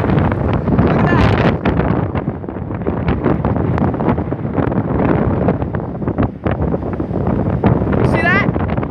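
Strong wind gusts in a rain storm roar continuously and loudly across the microphone in a rough, buffeting rush, with brief voices underneath.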